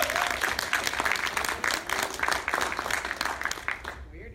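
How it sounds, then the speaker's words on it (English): An audience at a Clark College talk claps steadily for a speaker being welcomed, a brisk even patter that fades out at the end with a voice coming in. "Weird to get claps before I speak."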